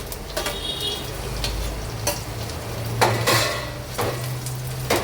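Ground prawn and jackfruit seed paste frying in a pan over lightly fried onion, a close, steady sizzle punctuated by loud scrapes and knocks of a spoon against the pan.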